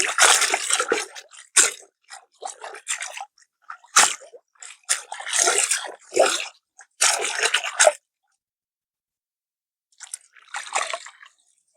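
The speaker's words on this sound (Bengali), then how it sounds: "আমি এখন মূলা শাকটি ধুয়ে নেই" Repeated splashing and sloshing of river water in short bursts as radish greens are dipped and swished, with pauses between, close by and fairly loud.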